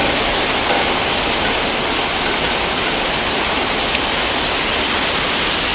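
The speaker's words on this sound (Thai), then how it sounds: "บรรยากาศฝนตกโปรยปลายเลยนะครับ" Steady, dense rain hissing continuously, falling on a pond, loud and close, with no pauses or voices.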